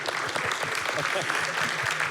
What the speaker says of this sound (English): I'm going to remind the audience to applaud our authors one more time